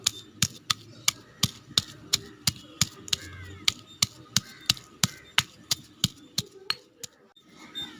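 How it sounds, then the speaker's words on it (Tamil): Ginger and garlic being pounded for cooking, a sharp rhythmic series of about twenty hard knocks in steady succession, close and distinct against quiet background noise. "ஒரு 5-6 பல் பூண்டும் சேர்த்து தட்டி எடுத்துக்கலாம்."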